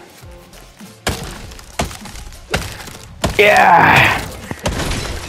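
A tree in LEGO Fortnite takes about five hollow chopping thunks at steady intervals, then breaks apart with a crunching, splintering crash. A voice shouts once in excitement.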